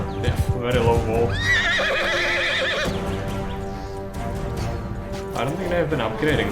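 A horse whinnies loudly in the video game Mount & Blade Bannerlord, one long wavering neigh in the middle with a second shorter call near the end, over hoof sounds and a man's speech.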